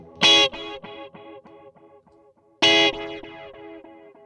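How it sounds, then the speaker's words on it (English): A guitar played through a delay plugin with added distortion strikes two crunchy notes, each echoing away in a train of fading repeats. "we can also apply a little bit of distortion to the resulting signal"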